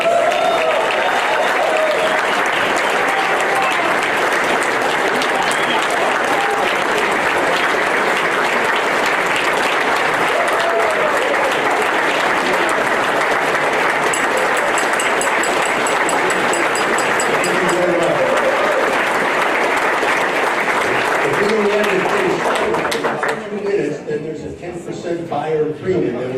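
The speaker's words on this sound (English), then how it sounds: "join me in a round of applause for our auction chair, Mr. Bill Gombert" Loud, sustained audience applause at a Chamber of Commerce auction in Windsor honoring the auction chair, a dense, steady roar of clapping with crowd murmur that tapers off at the very end.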